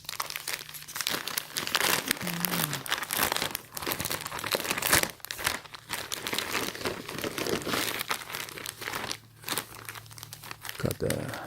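Packaged Palace Skateboards t-shirt being unwrapped, loud continuous crinkling and crumpling of plastic wrapping with occasional tearing, while someone talks.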